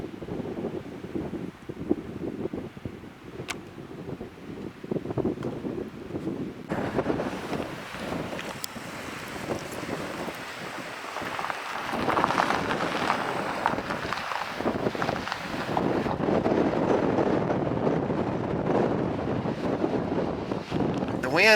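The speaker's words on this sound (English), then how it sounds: "wind up here is really strong and it's cold" Strong cold wind buffeting across a mountain top, a continuous rough roar and rumble against the microphone that grows louder and fuller in the second half.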